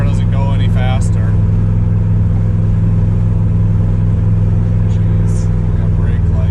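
Low steady droning rumble of a 1977 Chevrolet Nova engine cruising on the road, loud and constant throughout, with someone talking over it.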